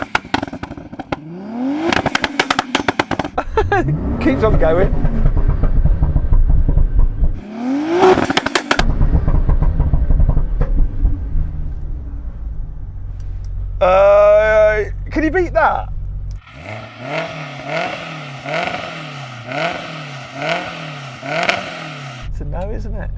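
Tuned cars, including a 700 hp Supra, an RX-7 race car and a Porsche 911 Carrera, rev hard in loud repeated bursts with crackling pops, while people talk over and between the blips.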